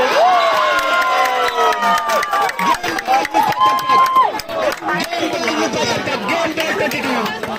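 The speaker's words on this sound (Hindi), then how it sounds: "तालियों से एक बार फिर से दोनों टीमों का उत्साह बढ़ा" A crowd at a volleyball grand final in Gothol, Khello India, cheers and claps loudly and steadily throughout, with an excited commentator talking over the noise.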